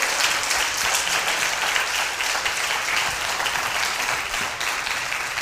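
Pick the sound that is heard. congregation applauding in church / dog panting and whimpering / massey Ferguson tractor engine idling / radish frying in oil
congregation applauding in church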